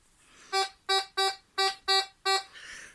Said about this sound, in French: Le téléphone qui fonctionne pas, ça marche, ça bip.